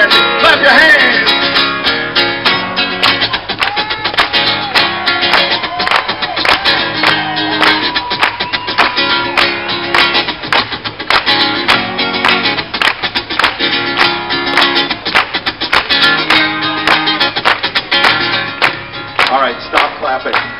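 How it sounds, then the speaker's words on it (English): A crowd at the Occupy LA rally claps its hands in a steady, even rhythm along with live music, with sharp, regular claps running throughout. "Clap your hands!"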